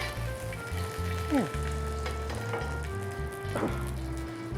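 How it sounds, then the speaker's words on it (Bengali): Green chilies and garlic fry in hot oil for noodles, a steady close sizzle with a few utensil scrapes and clinks as they are stirred, over a constant hum. "সো নুডলস ফ্রাইয়ের জন্য আমরা কিছু কাঁচামরিচ এবং কিছু রসুন নিয়ে নিলাম, একটু ব্রাউন কালার ভেজে নিচ্ছি।"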